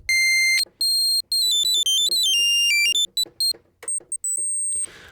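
Very high-pitched Roland SH-101 synthesizer oscillator tones beep and warble in quick stepped patterns, piercing and clear, with short gaps and a brief hiss at the end.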